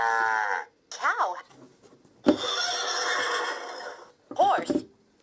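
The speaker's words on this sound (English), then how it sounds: "Horse." An electronic horse neigh and whinny plays from a Fisher Price Little People I-Jig digital jigsaw puzzle toy, a bright synthesized call repeated in short bursts, loud and close, with someone speaking briefly in between.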